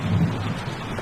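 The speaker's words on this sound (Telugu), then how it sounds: "వర్షం భయంకరంగా పడుతుంది." Heavy rain pours down in a dense, steady hiss while a low roll of thunder rumbles underneath, loud and continuous through the short stretch with no voices.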